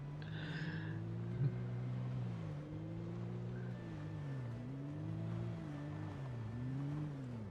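A truck engine in Project Zomboid drones steadily and loud throughout, its pitch rising and falling in gentle waves as it revs.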